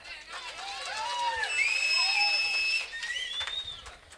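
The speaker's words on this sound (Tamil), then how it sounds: "பப்ளுக்கு எல்லாரும் கைதட்டுங்க." A crowd at an outdoor village drama performance near Natham claps and whistles loudly for a comedian, with several sharp, sustained whistles rising over continuous applause and crowd noise.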